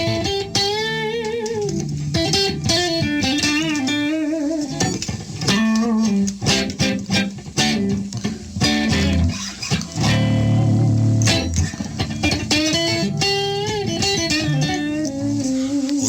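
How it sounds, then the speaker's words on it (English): Electric guitar plays quick, bending licks and ringing phrases continuously on a 1980s three-pickup Gibson SG, loud and close, with no other instruments. "1980s 3-pickup Gibson Yellow SG. That is one beautiful guitar"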